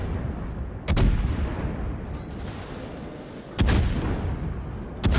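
Heavy naval gunfire from a Des Moines cruiser in World of Warships, three sharp booming salvos spaced a few seconds apart, each a loud crack followed by a rolling rumble over a constant low engine drone.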